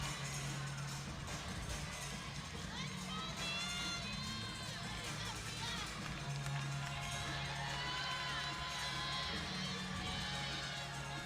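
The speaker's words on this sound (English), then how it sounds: "She's got her team cheering her on." Teammates cheer and shout for a gymnast at a women's college gymnastics meet, scattered whoops and yells rising over a constant arena crowd murmur, fairly distant, with a voice speaking in places.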